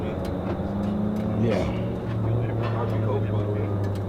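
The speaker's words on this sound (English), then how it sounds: "Look at that V10, boy. That's that V10." A Dodge Viper ACR's V10 engine running close by, a steady low rumbling drone with a slight rise in pitch midway, while voices talk over it.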